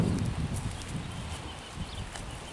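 Hooves of a two-year-old blue roan overo filly clip-clop on the ground as she is led by halter at a small farm near Chascomús, a soft, steady, fairly close plodding under light outdoor background noise.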